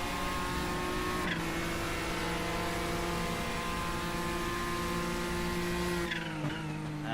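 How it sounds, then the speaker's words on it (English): An iRacing sim racing car engine drones steadily with a strained, uneven tone as it fails at Willow Springs, briefly dipping and surging as it struggles, with no voices. "I think he might have blown his engine"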